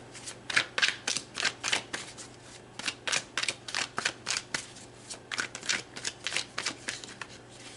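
Tarot cards being shuffled by hand in quick, rhythmic riffling bursts with short pauses between them, close and fairly loud, with no one speaking.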